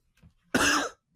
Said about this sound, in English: I'm going to stop coughing into the mic.